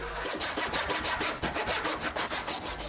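A hand saw cuts the ends off leftover pallet wood with steady, rhythmic back-and-forth rasping strokes, close and fairly loud, about four strokes per second with no talking.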